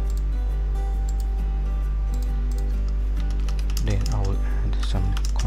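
Fingers tap a computer keyboard while a web page is built in WordPress for WooCommerce: scattered light clicks over a steady electrical hum, and a voice speaks briefly near the end.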